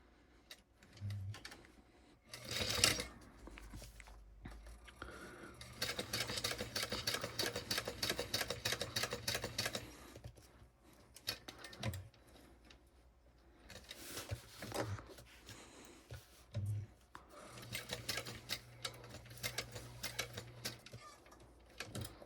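A sewing machine stitches a bow onto a hat, following the top stitch, in a few sustained runs of steady mechanical whirring with short pauses and handling noises between them.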